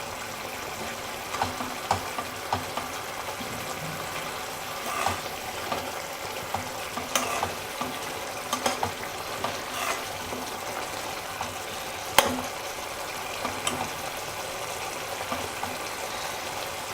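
Tomato chutney simmers and boils in a pan with a soft continuous bubbling hiss, scattered small pops and a few sharp ticks, close and fairly quiet, with no voices.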